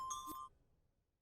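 Bell-like chime preview from a music clip in the game Dreams: a bright ringing tone with a soft strike, fading quickly into near silence within half a second.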